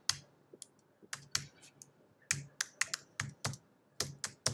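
Typing on a computer keyboard while entering a database command during a WordPress setup on a Raspberry Pi 4: a dozen or so crisp, close keystrokes in uneven bursts and single taps, with no talk.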